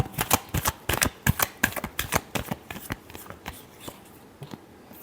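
A deck of tarot cards is shuffled by hand, a quick series of crisp riffling snaps and flutters, close and dense at first, then thinning out toward the end.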